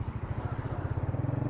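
A motorcycle rolls along slowly nearby, its engine putting out a low, steady, pulsing putter with no voices over it.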